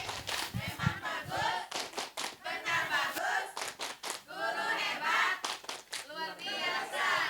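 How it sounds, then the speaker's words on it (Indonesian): A group of teachers or pupils at a school training session performs the MBG clap chant, shouting rhythmic syllables in unison punctuated by claps, lively and close, with overlapping voices throughout. "Coba tepuk MBG."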